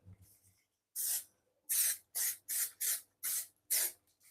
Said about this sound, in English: You really wanted to spray mainly the sides of these tins